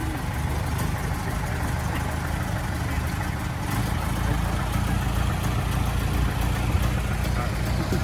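A Ford Model T's small 20-horsepower engine runs at an outdoor gathering, giving a steady low rumbling idle that stays even throughout, with voices of people nearby mixed in.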